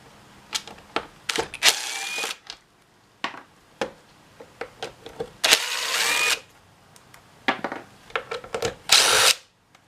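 A power drill backing screws out of the fan housing of a Husqvarna 125B leaf blower, several short whirring bursts with longer high whines in between, separated by clicks and handling noises.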